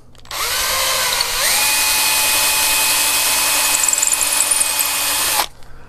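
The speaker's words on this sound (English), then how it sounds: "we're just gonna grab the drill." A power drill bores through a balsa wing aileron on a quarter-scale Fokker D.VII model airplane, giving one continuous loud whine that rises in pitch after a second and holds steady, with no voices.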